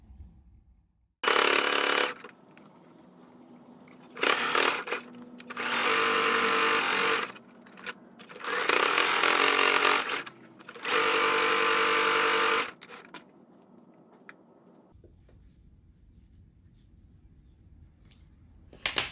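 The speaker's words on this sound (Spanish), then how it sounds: "Ahora vamos a la máquina para coserle todo el bordo." A sewing machine stitching around the edge of a child's Minnie Mouse fabric face mask, running loud and close in four or five sustained bursts separated by short pauses, then a quieter hum at the end.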